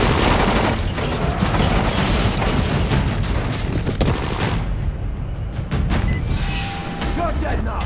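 Rapid bursts of gunfire in the video game Dying Light, loud, close and repeated, with heavy booming shots and clattering volleys running almost continuously.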